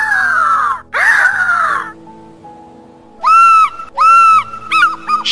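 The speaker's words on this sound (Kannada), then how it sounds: "ಅದು ಸರಳು ಸಿಲ್ಲಾರ ಹಕ್ಕಿ." A small bird gives loud, clear whistled notes, first two long descending calls, then after a pause a rapid series of shorter, ringing whistles repeated close by.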